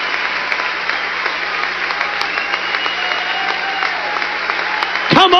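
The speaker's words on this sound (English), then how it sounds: "Can we give him a big clap and a God bless you?" A church audience at a revival meeting breaks into sustained applause, a thick steady wash of clapping with a few sharp peaks, while a voice briefly speaks over it near the end.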